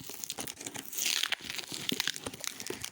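Plastic wrapping on a Cry Babies doll package crinkles and tears as it is opened, a busy, close run of crackling rustles with a louder tearing burst near the middle.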